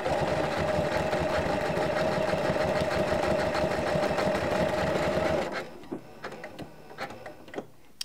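A sewing machine runs steadily, quilting lines of stitches through layered vintage linen for a quilt-as-you-go wall hanging, with a close, even, rapid whir that cuts off near the end, leaving quiet handling sounds.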